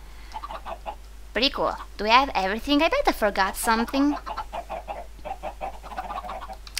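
Chickens in a video game cluck continuously in the background, soft and rhythmic, while someone talks over them in the middle of the stretch.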